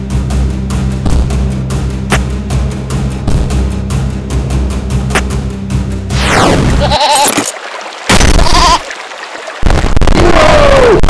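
Goat bleats ring out in the video game There Is No Game, repeated wavering cries up close, the first half layered over a droning, glitchy game soundtrack, then isolated bleats between sudden silent gaps.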